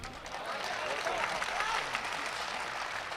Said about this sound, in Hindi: आपने ताली बजा दी